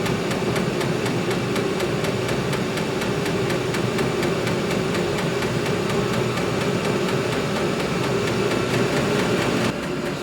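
A Vevor 8 kW diesel heater runs loud and steady, its fuel pump ticking in an even, rapid rhythm over a continuous low combustion roar, with no voices.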